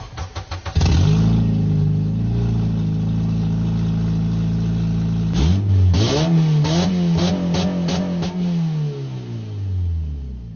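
A car engine fitted with an exhaust test pipe starts and idles with a deep, raspy exhaust note, then revs up sharply several times before settling back to a rumbling idle.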